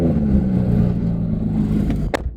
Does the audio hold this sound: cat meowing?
no